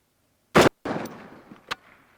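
One loud rifle shot cracks toward a steel target at 300 yards, followed by a decaying echo and a brief sharper ping from the struck steel as the sound fades out.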